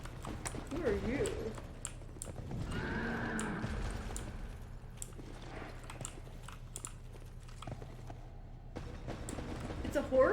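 Horse neighing and whinnying in Dark Souls 2, with hoof clops and game sound effects over a low ambient drone, mixed with intermittent talking, keyboard clicks and mouse clicks.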